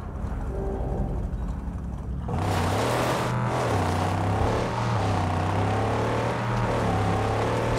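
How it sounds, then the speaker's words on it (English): A humble buggy's engine revs up and drives off in the Mad Max video game, a quiet idle jumping after two seconds into a loud, sustained droning run with shifting pitch. "Rev it up and go, Saint."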